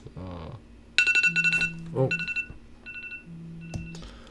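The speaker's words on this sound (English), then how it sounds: "So that was my timer going off." An electronic timer goes off with a series of short tonal beeps in clustered bursts, some lower buzzy tones mixed between them, loud and close with no talk.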